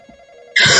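A telephone in a horror video game rings loudly and abruptly, a sudden sharp electronic ring that bursts in after a faint steady hum.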